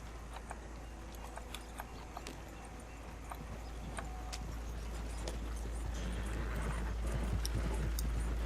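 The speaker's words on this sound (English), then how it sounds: "We're getting on the wagon, not the horse." Horse hooves clip-clop steadily as a horse-drawn wagon rolls along in the Red Dead Redemption 2 video game, a quiet continuous rhythm with faint jingling and creaks and no talk over it.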